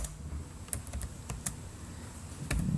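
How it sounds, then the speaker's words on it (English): Fingers tap on a computer keyboard in a quiet room: scattered, close key clicks in an uneven rhythm over a low background hum. "now you want to go and type in"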